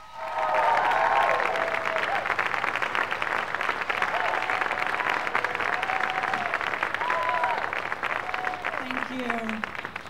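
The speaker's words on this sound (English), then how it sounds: "how about a big round of applause for Miss Alex House?" An audience at a comedy competition final claps in a dense, sustained round of applause that swells early and holds steady for about ten seconds, with faint background tones under it.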